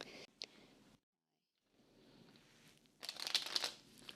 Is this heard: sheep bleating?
no